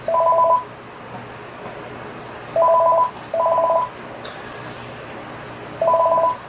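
Four short, evenly pitched telephone tones sound at intervals over quiet background hiss, each lasting about half a second.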